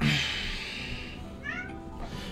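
A pet cat, wet from the rain, gives a couple of short meows partway through, indoors over a steady low background hum.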